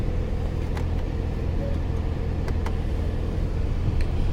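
A 2017 Porsche 911 Carrera with sport exhaust driving in sport mode, a steady low engine rumble and road noise from inside the cabin, with a few faint ticks and no talking.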